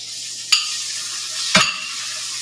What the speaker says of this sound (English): a little bit of a sizzle here